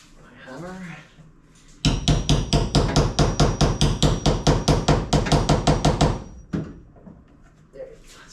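A hammer strikes rapidly during upholstery work on 1956 Oldsmobile seats, about twenty loud, evenly spaced blows in a quick burst, with brief speech before and after.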